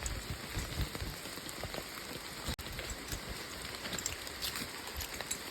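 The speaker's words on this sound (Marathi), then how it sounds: "पाऊस पण पडता जोराचा" Heavy rain falls steadily at night in the Konkan, a dense, unbroken hiss of drops hitting surfaces with no speech and only one momentary dip.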